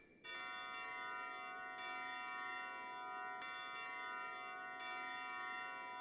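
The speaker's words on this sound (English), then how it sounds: "Let's ring that bell." Struck bell in the Klonoa Phantasy Reverie Series game Lunatea's Veil, set in an amusement park, ringing several times at roughly one-and-a-half-second intervals, each bright metallic peal lingering loudly into the next with no talking.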